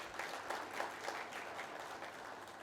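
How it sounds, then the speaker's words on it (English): A conference audience at a business event in Nagpur gives a round of applause, a steady dense patter of clapping heard at a distance and fairly faint throughout. "Warm round of applause for all of them,"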